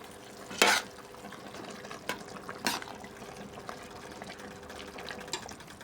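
A pot of clam soup simmers with steady soft bubbling and faint liquid churning, broken by a few brief clinks and scrapes at the pot, quiet and close with no talking.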